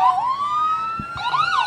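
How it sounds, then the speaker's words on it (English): North Mississippi Medical Center ambulance siren approaching in the Belmont Christmas parade: loud, close wailing tones rising and falling continuously, with a brief horn-like blast near the end. "The ambulance that's approaching is the North Mississippi Medical Ambulance Service."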